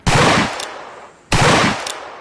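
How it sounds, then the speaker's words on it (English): Two loud, close bursts of gunfire in a Wild West Roblox game, each a short rapid volley about a second apart, with no talking. "I heard gunshots. He's probably still shooting somebody."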